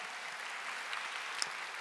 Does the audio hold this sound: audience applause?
yes